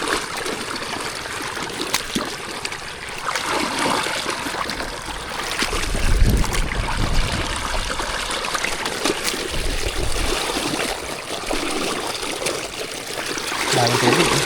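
Water flowing through a flooded rice paddy during fertilizer application, a continuous trickling and gurgling stream close by, with occasional heavier splashing surges.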